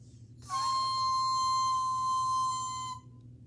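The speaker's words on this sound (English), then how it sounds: "And this is also a whistle. Can you whistle in it, please?" A toy whistle blown once in a single sustained, shrill steady tone lasting about two and a half seconds, close and clear against a quiet room.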